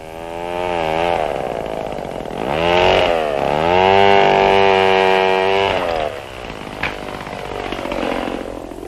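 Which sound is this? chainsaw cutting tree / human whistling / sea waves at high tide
chainsaw cutting tree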